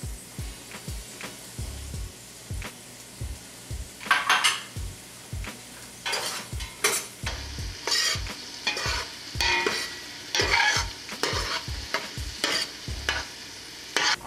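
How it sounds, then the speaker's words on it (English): Sliced chicken sausage half-rounds browning in a pot, with sizzling under repeated regular knocks and scrapes of a utensil against the pot and bursts of louder frying crackle, close up, with no talking. "I'm going to dump those into the pot so they can begin to brown"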